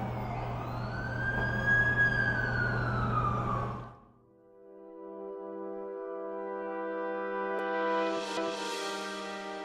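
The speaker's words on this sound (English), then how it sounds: "That's the ambulance I called." In The Amazing Spider-Man 2 video game, an ambulance siren wails, sweeping up and down loudly, cuts out, then a different steady electronic siren tone sounds with layered harmonic hums, close and sustained.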